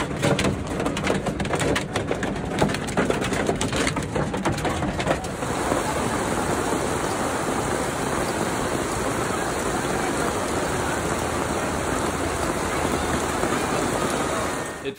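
Steady, dense rain pours down continuously, a broad hissing wash with occasional birdsong mixed in near the start.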